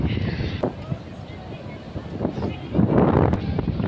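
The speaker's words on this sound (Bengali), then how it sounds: "প্রচণ্ড হাওয়া হচ্ছে।" Strong wind buffeting the microphone outdoors in a crowded open place, loud gusty rumbles rising and falling, strongest toward the end, with a voice speaking over it.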